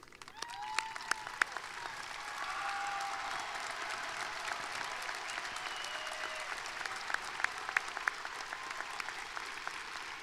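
A high school graduation audience at Franklin High School applauds scholarship-winning seniors, a sustained, fairly distant patter of many hands with a few sharper nearby claps standing out.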